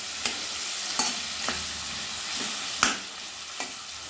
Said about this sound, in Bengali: ফ্লেম হাই টু মিডিয়ামে রেখে মাছ ভেজে নেব